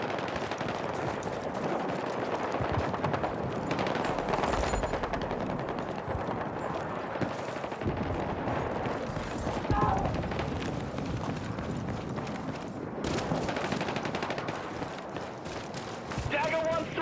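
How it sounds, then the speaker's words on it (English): Heavy gunfire in a Battlefield 6 campaign battle, with dense, continuous shooting and explosive cracks filling the whole stretch, mixed with voices and radio chatter. "we're taking heavy fire"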